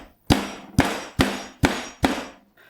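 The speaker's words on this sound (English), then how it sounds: "So we'll just sandwich it in cling film and bash it with something heavy." Chicken breasts sandwiched in cling film are bashed with something heavy, giving five loud, evenly spaced thuds with a slight metallic clang, close by and alone.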